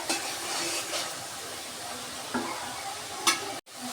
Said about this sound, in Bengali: তো এই যে আমি কয়েক মিনিট ধরে কষিয়ে নিচ্ছি।